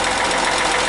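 The Hyundai Matrix 1.5 CRDI diesel engine runs loud and close with a steady rough roar and a knocking fault, giving a dense, continuous drone with no speech.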